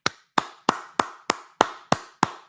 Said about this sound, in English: take a minute and applaud Jake